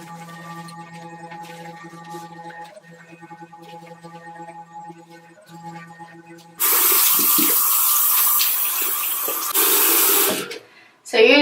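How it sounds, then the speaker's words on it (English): Tap water runs steadily into a sink as a Clarisonic facial cleansing brush is rinsed, a loud broadband gush starting partway through after quieter room sounds and cutting off near the end. "I will rinse out my Clarisonic just so I can get it ready to go back down and sit on the charger"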